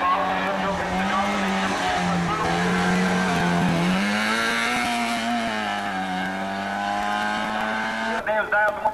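A race car at a hill climb event drives hard with a loud, close engine whose pitch climbs and dips through gear changes and throttle shifts, with a brief burst of other noise at the end.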